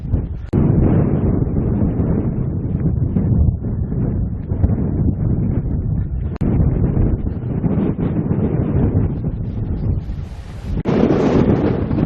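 Strong coastal wind at Flamborough, England, roars against the microphone in heavy, continuous gusts, loud and rumbling, with brief lulls between blasts.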